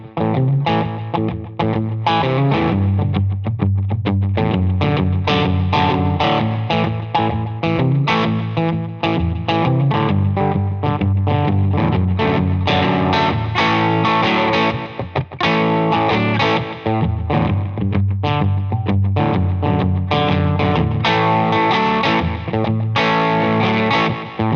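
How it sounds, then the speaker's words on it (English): Electric guitar through a Catalinbread Epoch pedal set for slapback delay, played continuously with a driven, slightly distorted tone and a short echo doubling each note, loud and unaccompanied by speech. "The next setting I really like to use is just the best slapback that you're gonna find"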